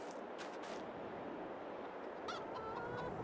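Chickens clucking at a chicken coop in Farming Simulator 22, a few faint, scattered calls over a steady ambient background hiss with no talking.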